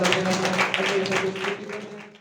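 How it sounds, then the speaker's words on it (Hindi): A church congregation claps hands together in a dense, continuous patter during a worship service, sustained and fairly loud with a murmur of voices underneath. "ताली बजा कर आइए,"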